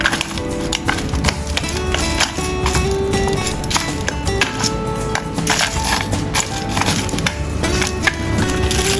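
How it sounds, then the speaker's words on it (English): Cashew nuts crushed in half while wrapped, for a vegan celery porridge, giving steady dense crunching and cracking close up over roughly nine seconds, with background music underneath. "Crush the cashews in half."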